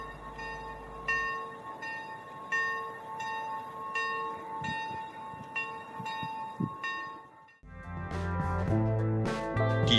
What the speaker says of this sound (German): Wunderschöner Glockenklang.